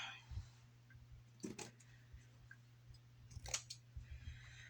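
Two quick snips of scissors cutting through yarn, separated by a pause, over a steady low electrical hum in a quiet room.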